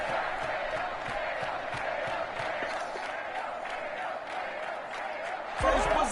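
A video game football stadium crowd in Superstar KO roars and cheers steadily throughout, a dense continuous wash of noise that swells louder near the end.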